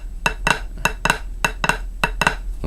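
A snare drum plays a short measured pattern of crisp, close strikes, several landing as quick flam-like double hits, evenly spaced with no talking.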